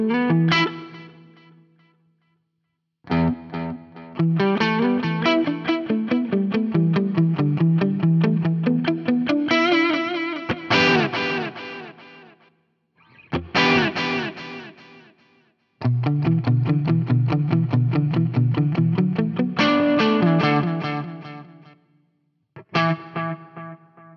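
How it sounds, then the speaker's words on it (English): An electric guitar plays through a BOSS Katana-Head MKII amp in tape echo delay mode, loud distorted riffs and chords with repeating echoes, broken by short pauses, with no talking over it. "This is a delay mode that I like. What one is it? Tape echo"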